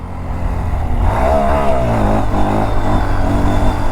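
Motorcycle engine revving hard and holding high during a wheelie, loud and close, a sustained roar with rising pitch that stays up throughout.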